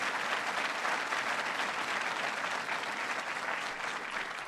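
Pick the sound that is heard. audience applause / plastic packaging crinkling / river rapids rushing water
audience applause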